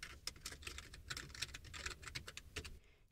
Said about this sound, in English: Let's head over to Google and type in My Kindle Reviews.